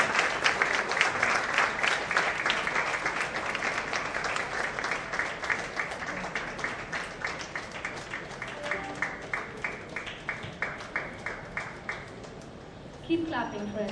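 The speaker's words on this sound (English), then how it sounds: "Keep clapping, friends." A crowd at a CD launch claps for children from Happy Home in sustained applause that thins into a sparser, rhythmic clapping before a voice begins speaking near the end.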